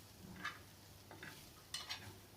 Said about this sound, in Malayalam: ഇനി ഇതൊന്ന് ഇളക്കി കൊടുക്കുകയും വേണം.